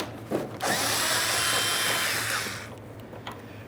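A power tool whirs in one short burst of under three seconds, removing a 10mm bolt from the rear bumper cover of a 2012-2018 Nissan Altima, close and fairly quiet, with a click before and after.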